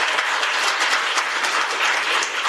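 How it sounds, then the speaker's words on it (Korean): A forum audience gives steady, loud applause, with dense, continuous clapping that holds evenly from start to finish. "큰 박수로 맞이해 주시기 바랍니다"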